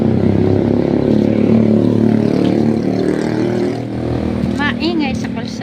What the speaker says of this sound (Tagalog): Maingay sa kalsada guys.